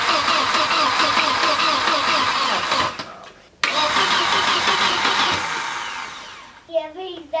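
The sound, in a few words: 1989 Volvo 760 Turbo engine starting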